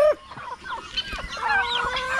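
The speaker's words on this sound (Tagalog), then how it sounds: "mga lalaking manok doon" Chickens and roosters cluck and call in a farmyard near a pig pen, a steady overlapping chorus of bird voices with a rising squawk near the end, fairly close and without speech.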